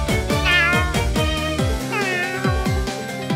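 A cat meows repeatedly and loudly up close, a rapid series of drawn-out, rising and falling cries with no talking.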